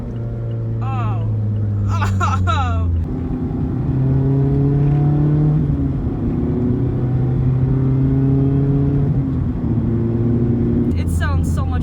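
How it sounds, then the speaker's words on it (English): A Mazda Miata RF fitted with an ISR Circuit Spec exhaust, heard from inside as the engine revs and accelerates with a loud, raspy drone rising and falling, while a voice talks over it at the start and end. "It sounds so much better than the stock exhaust."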